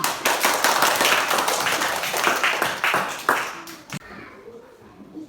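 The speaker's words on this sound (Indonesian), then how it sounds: "Tepuk tangan untuk semua." Children in a grade 3 classroom clap their hands together for about four seconds, a dense burst of close, sharp claps that stops abruptly, followed by quieter room noise and faint voices.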